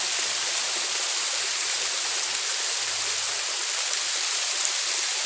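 A waterfall at Ko Ngo Khi roars steadily with dense, hissing rushing water, a constant close wash of sound with no voices over it.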